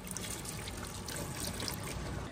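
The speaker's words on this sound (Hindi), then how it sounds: "अब ताज़ा मोटर चला के ताज़ा पानी बोतल के अंदर भर रहा है" Fresh water from a motor pump pours steadily into a bottle, a continuous near trickle and splash with no talk.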